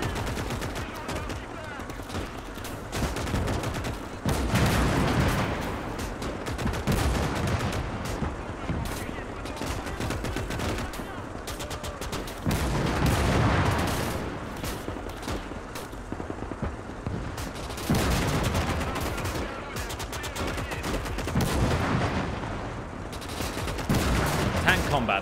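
Continuous battlefield gunfire and heavy booms from a tank battle during a siege of Königsberg in Gates of Hell, with steady automatic fire and deep artillery thumps filling the scene under ongoing commentary.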